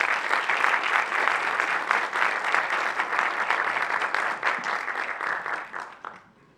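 Sustained audience applause fills a speaker event, dense steady clapping at full strength for about six seconds before tapering off at the very end.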